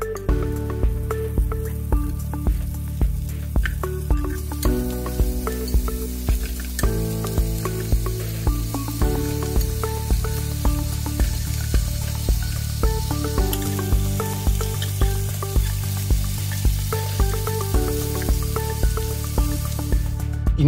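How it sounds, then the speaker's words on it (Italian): Lamb meat searing in a hot pan, a steady sizzle and crackle of frying heard throughout, with a regular beat of background music running under it. "In una padella vado a sigillare la carne di agnello"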